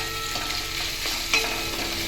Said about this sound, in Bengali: একটু খুন্তি করে একটু চিপে চিপে দিচ্ছি যাতে একটু গলে যায়